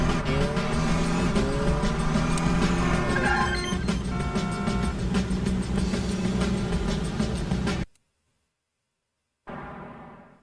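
Car engine droning and revving while driving in The Italian Job video game, loud and sustained with shifting engine tones, cutting to silence for over a second before the engine roar resumes.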